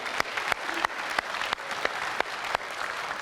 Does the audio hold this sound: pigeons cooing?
no